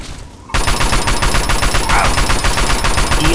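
A Fallout 3 firefight erupts after a brief quiet start, sending a loud, continuous stream of rapid shots at a steady rhythm that stays intense throughout.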